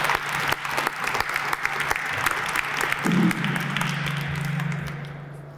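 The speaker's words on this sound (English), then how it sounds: "Let's give all of our sponsors a round of applause." Audience applause for sponsors at a Black History Month closing ceremony, scattered distinct claps over a steady low hum, with a brief voice partway through as the clapping thins and fades.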